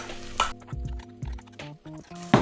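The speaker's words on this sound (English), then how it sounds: "Some lemon juice in it, just a little bit. And then stir it." A spoon stirs curry with a splash of lemon juice in a pan, giving a few soft scrapes and light clinks against the metal over a low background hum.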